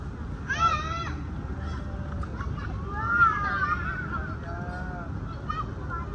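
Geese honking in an outdoor garden setting, a loud nasal honk near the start followed by more drawn-out calls and quieter honks, over steady background murmur and ambient noise.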